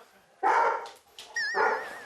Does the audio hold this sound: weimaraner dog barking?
yes